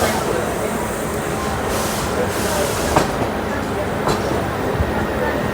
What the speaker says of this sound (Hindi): नई चमचमाती हुई 15 एलएचबी कोचेस के साथ हमारी रायपुर इंटरसिटी जबलपुर से रवाना होते हुए